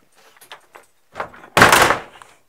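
A few soft clicks and handling noises, then a door swings open with a loud close-up thunk and rattle that fades out.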